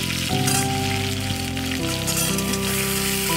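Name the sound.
potatoes frying in a pan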